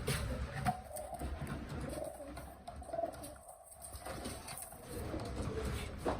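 A pet bird, likely a dove or pigeon, coos softly and repeatedly at close range over steady background noise.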